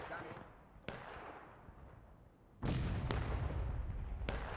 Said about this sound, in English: The good arty shots.